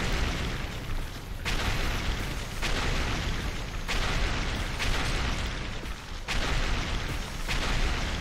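An alien nest is blown apart in The Riftbreaker by loud, rumbling explosions that land in repeated heavy booms roughly every second or two, close and continuous, with no voices.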